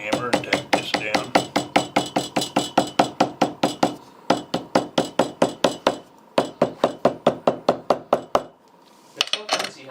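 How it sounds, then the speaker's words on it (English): Hammer tapping to tack down leather on a bench: a long, steady run of sharp close knocks at a brisk even pace, pausing briefly twice before resuming, with a little talk at the end. "Now I'm going to use a hammer and tack this down."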